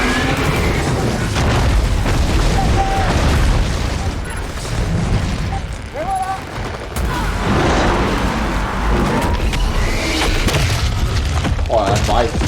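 Gears of War 4 explosions boom repeatedly in a dense, loud barrage of gunfire and blasts with continuous game noise, while a voice talks over the action.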